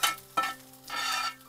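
A brief hiss and sizzle of green and red chillies dropped into hot oil for tempering dal, rising in two short bursts with a faint clink between.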